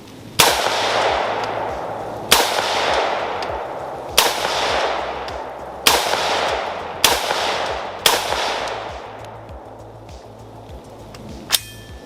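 Six loud, sharp rifle shots from a newly built AR rifle, fired singly at irregular intervals of one to two seconds, each ringing out with a short echoing tail outdoors.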